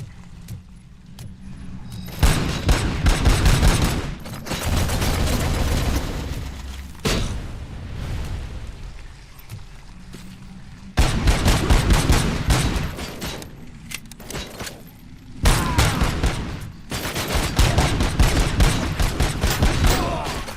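Automated OCP turret gunfire in Robocop: Rogue City, loud bursts of rapid shots in several long volleys separated by brief quieter gaps, with clattering impacts between them.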